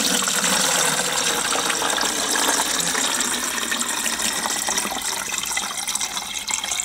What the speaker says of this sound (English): So I'm going to just pour that in there.